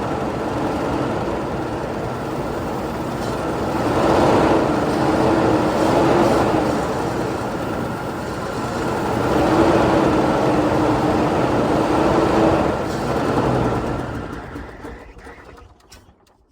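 An old Ford Falcon farm car runs with a steady, rough engine drone that swells and eases twice, then fades away near the end.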